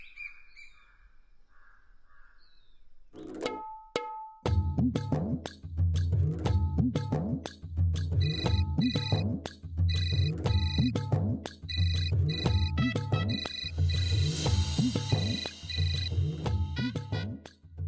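A mobile phone ringtone goes off during a Marathi TV serial scene: a quiet start, then a loud, repeating electronic melody with steady rhythmic pulses that continues without pause.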